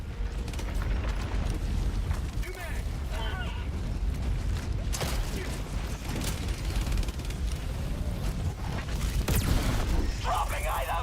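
Mortar shells landing in Helldivers 2, with heavy booms and rumbling blasts at intervals amid constant battlefield noise, while voices talk over the action.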